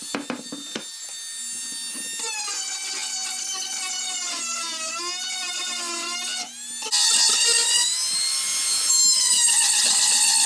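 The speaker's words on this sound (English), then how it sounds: "we're gonna go in with a rotorer tool, start to clean this up, go around these edges" A rotary tool whines steadily as it cleans up the edges of a handmade plate, fork and spoon. Its pitch wavers slightly under load, then jumps to a louder, harsher tone near the end.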